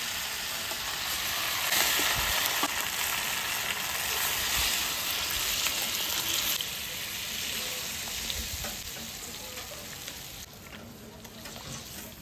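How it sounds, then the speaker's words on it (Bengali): Water poured into a pan of sizzling braised country chicken, a loud, steady frying hiss with stirring scrapes that continues close up throughout. "মাংস কষানো হয়ে গেছে, এবার আমি জল দিয়ে দেবো"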